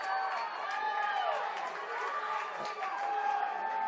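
A loud home crowd of North Caringbah supporters cheers and roars after a goal in a reserve-grade football grand final, a steady wall of noise with a voice talking over it throughout.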